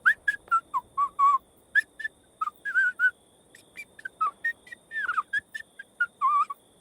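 A graveyard keeper's whistled tune in a fantasy tabletop role-play, given by a voice imitating the character: a lively string of short and held notes, close and clear over a faint low murmur.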